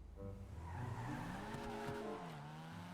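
Volkswagen BF Club revving and driving in GTA 5 Online, engine tone sweeping up and down through gear changes with tire skids, loud and steady throughout with no talking.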